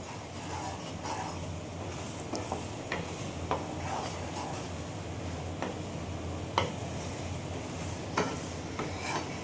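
Garlic pickle stirred in a pan gives a steady low sizzle broken by repeated scraping strokes of the spoon at an uneven pace, close and fairly quiet throughout.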